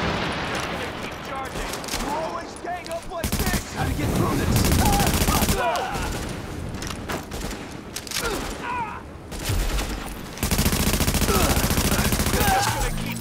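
Automatic gunfire in the Tom Clancy's The Division video game, with dense loud bursts of rapid shots in several stretches and crackling under game sounds, while people talk throughout.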